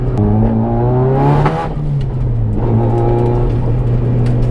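A car engine revs unevenly and stumbles as if breaking up, loud and close, with a couple of rising throttle blips and a rough, sputtering drone between them, no talk.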